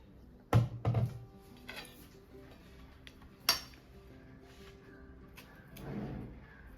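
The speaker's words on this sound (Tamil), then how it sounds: "இப்போ அந்த பழத்தை வந்து கட் பண்ணிக்கலாம்." A knife cuts ripe nendran banana for Kerala pazham pori in a quiet kitchen, giving a few sharp clinks against a plate or board near the start and once more midway, with soft handling noise between.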